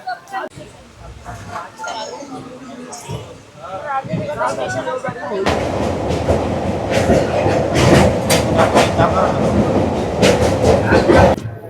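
A train runs on its rails in West Bengal, its rumble and rhythmic clickety-clack swelling loud and close partway through, with people chattering around it and voices over the start.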